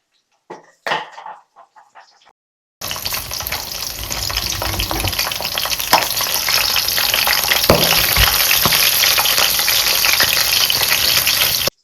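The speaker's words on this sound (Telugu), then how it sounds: "ఈ పచ్చిమిరపకాయలు దోరగా వేయించుకుందాం మనము వేయించుకునేటప్పుడు కొంచెం దూరంగా ఉండి వేయించుకుంటే మంచిది అవి చిట్పట్టుమని మన మీద పడతాయి" Green chillies frying in hot oil, a loud, continuous crackling sizzle that starts abruptly after a few seconds of quieter knocks and lasts to the end.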